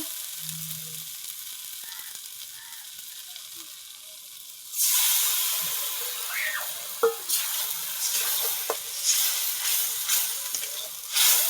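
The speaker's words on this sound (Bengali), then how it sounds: "ভালো করে মিক্স করে নিচ্ছি একটুখানি জল দেবো" A near-silent stretch gives way to a sudden loud hiss as water goes into sizzling spices for a mutton curry, followed by ongoing bubbling sizzle with occasional sharper stirring clicks.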